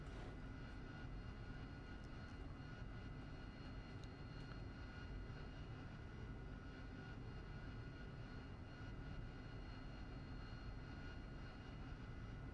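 AV-8B Harrier jet engine idling on a ship deck in the DCS flight simulator, a steady, faint, broadband whooshing roar that holds constant throughout, with no voices.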